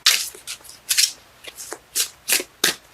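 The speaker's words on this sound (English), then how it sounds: "Cards let me know when they're done shuffling." A deck of tarot cards is shuffled close by, a string of quick crisp riffling bursts repeating about every half second, with quiet gaps between them and no voices.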